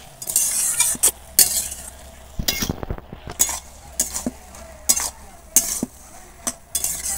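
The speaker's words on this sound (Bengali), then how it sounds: "এটা ভালো করে মিশিয়ে আবারও ঢাকা দিয়ে দিচ্ছে।" A spoon stirs turmeric and chilli powder into a thick pumpkin ghonto with prawns and Malabar spinach, scraping and clinking against the pan in repeated close strokes over a light sizzle, with no talk.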